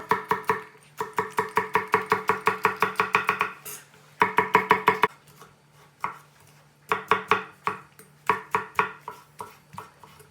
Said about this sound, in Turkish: İçine 2-3 diş de sarımsak doğruyor.